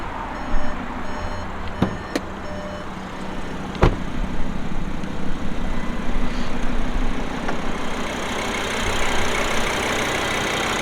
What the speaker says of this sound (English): So let's check out the 5-cylinder engine.